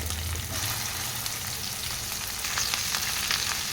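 Okra pieces fry in oil with cumin in a pan, giving a soft, continuous sizzle with faint crackles and no voices.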